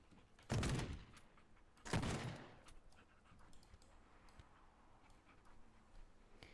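A dog pants in the video game Teardown with two loud, breathy bursts close together, followed by quieter scattered ticks and background ambience.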